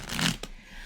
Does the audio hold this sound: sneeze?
no